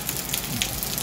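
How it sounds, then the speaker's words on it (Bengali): Steady rain falls over a quiet market street at night during a thunderstorm, a continuous soft hiss with scattered drop patter, moderately near and alone without voices. "বৃষ্টি কিন্তু চলছে।"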